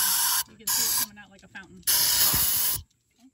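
Throttle body cleaner sprays through a car's idle control valve in two sharp, loud hissing bursts separated by short pauses, with faint talk in the gaps between them.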